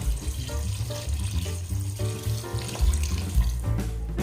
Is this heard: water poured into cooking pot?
yes